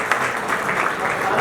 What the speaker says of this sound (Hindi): बहुत तालियां।